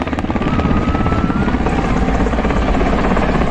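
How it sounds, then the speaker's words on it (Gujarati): An Indian Air Force helicopter performing stunts at the Suryakiran air show at Atal Sarovar, Rajkot, roars loudly nearby, its rotor chopping in a fast steady rhythm that fills the whole stretch. "હવે આપણું એ હેલિકોપ્ટર જાય છે સ્ટન્ટ બતાવીને"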